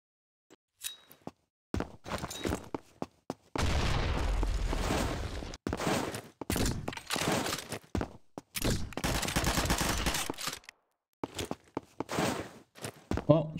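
Sniper rifle gunshots in the video game Combat Master, sharp bursts of gunfire in several separate clusters with quiet gaps between, mixed with footsteps and other game noise.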